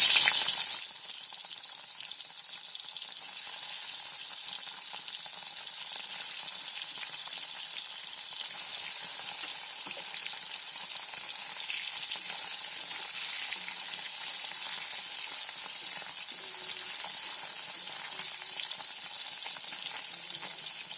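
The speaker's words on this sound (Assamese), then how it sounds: "তেল গৰম হোৱাত মই এইখিনি ফ্ৰাই কৰি ল'ম।" Food sizzling in hot oil in a home kitchen pan, a loud, steady, close crackling hiss that starts with a sharp burst as the pieces go in and carries on evenly without talk.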